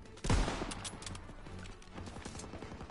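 In a WWII video game, an anti-aircraft salvo fires as a dense, rolling burst of booming shots that opens with a heavy low thump and continues as a rapid, rumbling barrage close by.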